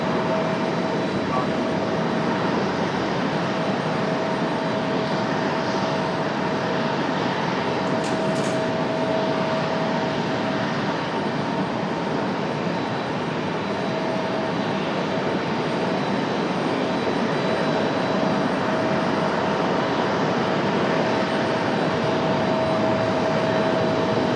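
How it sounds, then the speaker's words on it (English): A Boeing 737 MAX 8 jet airliner roars steadily and loudly overhead at Raleigh-Durham International Airport, its broad engine rumble holding for the whole stretch with a faint whine riding on top. "Here comes the Max 8, I hear."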